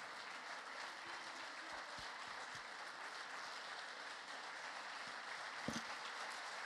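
Audience applause for a choir at a performance, faint, steady clapping heard from a distance, with a few louder bumps and knocks nearby.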